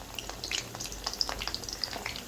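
Bitter gourd slices, salted, fry on low heat until crisp, giving a soft, steady crackle with light sputters and small pops.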